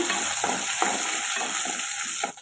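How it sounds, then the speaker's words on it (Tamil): Green chillies sauté in oil in a pan for a tomato kuzhambu, a loud, close sizzle with rhythmic spatula strokes scraping about twice a second before easing off at the end. "சேர்த்துட்டு ஒரு ரெண்டு நிமிஷம் இதை நல்லா வதக்கி விட்டுக்கோங்க"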